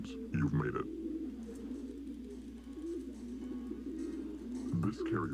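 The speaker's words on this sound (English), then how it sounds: "This carrier frequency pigeon possesses top secret information." A pigeon coos steadily in the video game Jazzpunk, a low murmuring warble held through the moment, with brief bursts of talk at the start and end.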